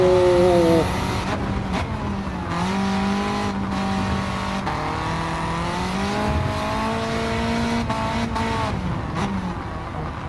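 Tuned car engine with an anti-lag turbo in the Gran Turismo racing game, a loud sustained engine drone rising and falling in pitch through gear changes, with brief dips between shifts.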